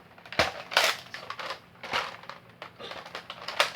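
A Nerf Slingfire bow releases a dart with a sharp snap, followed by a string of clicks and rattles as the toy is handled and reloaded, close and fairly loud.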